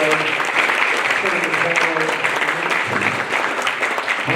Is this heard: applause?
yes